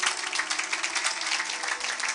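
Congregation applause in a church, a dense, even burst of many people clapping at once, held steadily for about two seconds at moderate loudness.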